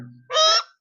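A one-and-a-half to two-year-old sun conure parrot imitates a crow's caw, giving a single loud, harsh, close call of about a third of a second after a brief low hum.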